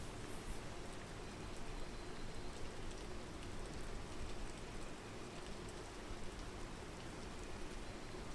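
Rain falling steadily in the climbing video game PEAK, a faint, even hiss of drops on surfaces that holds unchanged for the whole stretch with no talking.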